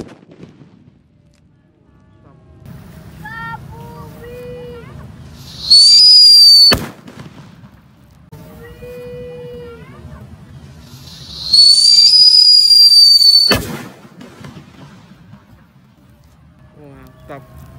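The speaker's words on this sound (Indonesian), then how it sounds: "Ini sore-sore ngabuburit nyemuti mercon" Firecrackers set off outdoors at dusk during Ramadan: twice a rising shrill whistle climbs for about a second and ends in a sharp, loud bang, with quieter crackling and hissing in between.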